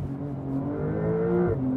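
A Porsche 992 Turbo engine revs hard in first gear, its exhaust crackling and popping over a rising, steady tone, close and loud with no talking.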